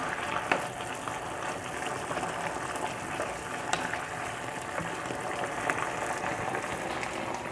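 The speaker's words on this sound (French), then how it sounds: "On va laisser mijoter encore un tout petit peu." Okra sauce (sauce gombo) simmers in a pot with a continuous soft crackling and bubbling, steady and close, with no talking.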